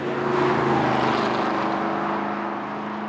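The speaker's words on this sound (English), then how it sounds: "it's the only car in our fleet that comes close to sounding as good as our AC Cobra." Racing car engine at Goodwood Circuit, a loud sustained roar that holds steady and then fades slightly as the car passes, with no voices.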